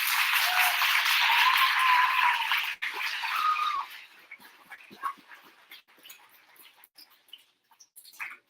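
An audience at a school assembly claps in a dense burst that fades after a few seconds into sparse scattered claps.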